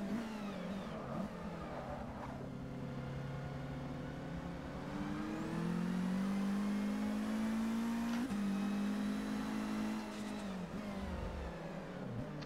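A car engine in the Forza 6 Apex racing game, played on a Logitech G29 wheel, drones steadily and then revs up in rising pitch, drops briefly at a gear change and climbs again, loud and continuous.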